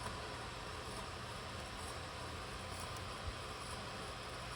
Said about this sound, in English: that way you can hear the engine louder